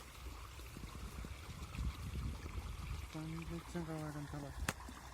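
Irrigation water flows into a millet field, a faint continuous trickle and splash under people talking outdoors, with a tonal engine-like hum partway through.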